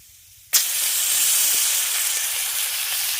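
Turmeric powder and ginger paste hit hot oil while tempering a veg dal, bursting into a loud, sudden sizzle after a brief quiet moment, then settling into a steady, close hiss of frying.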